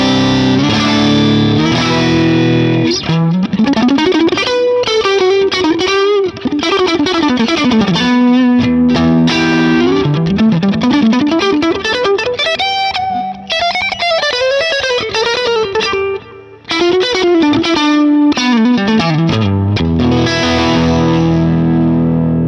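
An electric guitar played through a UAFX Ruby Vox amp modeler pedal gives distorted, slightly broken-up tone in driven riffs and sustained notes, alone and loud throughout.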